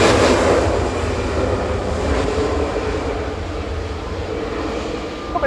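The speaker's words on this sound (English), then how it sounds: "EasyJet departing onto..." An EasyJet airliner departs from Manchester Airport, its engines producing a loud, steady broadband roar that fills the air without a break and holds nearly constant level, with no voices heard.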